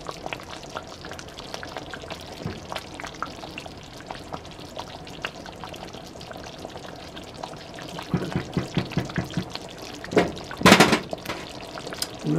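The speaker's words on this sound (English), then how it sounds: "Let this continue to bubble." Hamburger soup with potatoes boils in a pot, giving a low, steady bubbling and simmering hiss, broken by a few louder clatters and knocks near the end.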